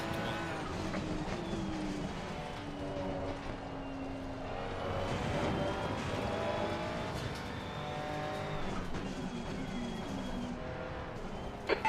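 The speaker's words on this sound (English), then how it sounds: "Listen to the car ahead in sector 1." Race car engines in a sim racing game at Brands Hatch, a loud steady engine drone with rising and falling revs and gear changes, another car audible nearby, sustained throughout.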